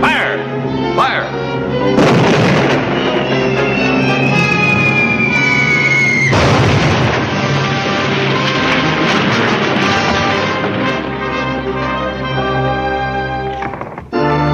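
Cartoon cannon fire from an army training short: loud booming blasts repeat through a dense, busy stretch under orchestral music, with a voice calling out commands over it.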